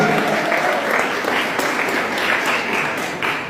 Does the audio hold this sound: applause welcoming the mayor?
yes